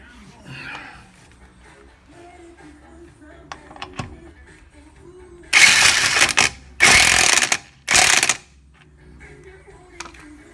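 Electric impact wrench tightening lug nuts on a car wheel: three loud, harsh hammering bursts of about one second each, close up, with quieter handling noises and clicks around them.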